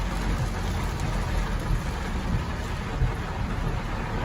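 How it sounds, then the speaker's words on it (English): Steady rain pours down in a forest under a low rumble of thunder, a dense continuous wash of sound with no talking. "When it starts raining, it comes fast"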